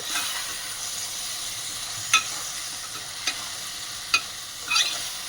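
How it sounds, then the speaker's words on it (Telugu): A spoon stirs fried mushrooms into a curry in a pan over a steady low sizzle, with a few short sharp scrapes and clinks spaced across the clip, close up and without speech. "ఇప్పుడు ఆయిల్లో ఫ్రై చేసినవి వేసుకొని మొత్తం ఒకసారి కలయి తిప్పుకోవాలి."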